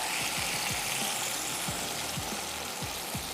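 Fish frying in garam masala and oil on a hot tawa, a continuous loud sizzle with soft crackles and spatters throughout, no voices.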